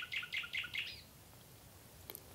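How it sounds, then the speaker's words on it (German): Nightingale song used as a sound effect in a 1956 German radio play: four quick bright chirping phrases in a row, fairly close and clear, then a quiet pause with one faint high chirp. "Die Nachtigall."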